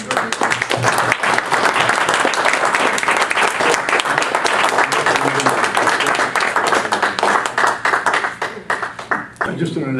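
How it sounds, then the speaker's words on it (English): Meeting attendees give a round of applause, loud close-up clapping with crisp individual hand claps forming a dense continuous burst that thins out near the end; faint voices mingle underneath. "And a round of applause for all of you."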